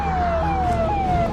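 An ambulance siren wails steadily nearby, a loud sustained tone with slow falling sweeps over traffic rumble, lasting the whole moment.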